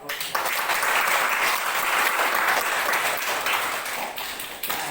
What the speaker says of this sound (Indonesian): berikan tepuk tangan atau aplaus.